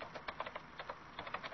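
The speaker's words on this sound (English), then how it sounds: "Stop typing." Rapid, light clicking of fingers typing on a computer keyboard, a quick irregular patter of keystrokes, fairly close and quiet, with no talking.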